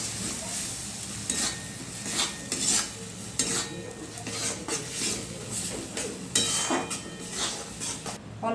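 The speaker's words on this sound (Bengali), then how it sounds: "নেড়ে দেবো।" Pointed gourd mash with turmeric and Kashmiri chilli powder gets stirred in a pan, a spoon scraping and knocking in irregular strokes over a soft, steady sizzle.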